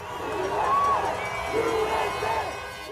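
Distant, reverberant crowd of angry protesters shouting and calling out together, a swelling mass of voices with a few higher cries rising above the steady roar.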